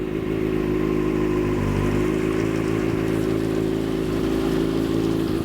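A 2019 Kawasaki ZX6R in sixth gear with a quick shifter fitted runs as the clutch is slowly let out, a loud, steady, close engine drone with a constant low hum and no talking.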